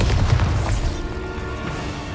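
A deep, loud Bombarda spell blast booms in Hogwarts Legacy, a rumbling low explosion that rolls out over about two seconds with crackling debris overhead.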